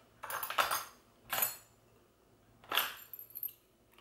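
Metal measuring spoons and cutlery clink in three short bursts as they come out of a kitchen dishwasher, quiet and close with pauses between.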